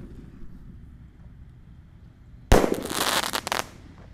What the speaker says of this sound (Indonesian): Kalau ini Bima Sakti yang paling besar, Bima Sakti 5, langsung kita nyalakan.